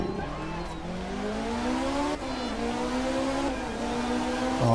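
A rally car in art of rally brakes hard, engine tone dropping and sliding down in pitch with tyre scrub, then a quick rev-up near the end, loud and close throughout.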